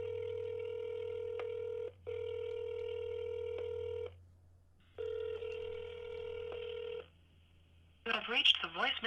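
Phone call tones: steady ringback beeps in three long bursts separated by short gaps, followed by a brief electronic voicemail-style sound at the end, with a constant low hum throughout.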